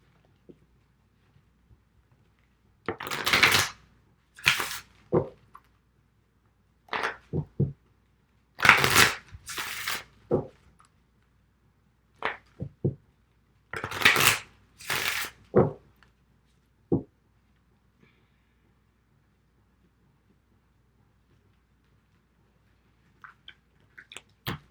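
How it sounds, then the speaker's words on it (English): Several short bursts of a tarot deck being riffled and bridged, separated by brief pauses, close and crisp with no talking. "I just want to give another quick shuffle on camera."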